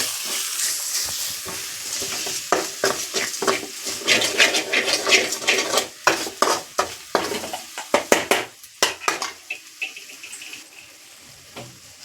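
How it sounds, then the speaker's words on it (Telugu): A spoon scrapes and clatters against a pan while cauliflower curry with spices is stirred, giving irregular metallic knocks over a soft sizzling background. "ఇవన్నీ బాగా మిక్స్ చేసుకుందామండి"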